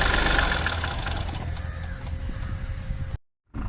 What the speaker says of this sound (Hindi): अब गाड़ी बंद हो रही है तो देखना साउंड कैसी आएगी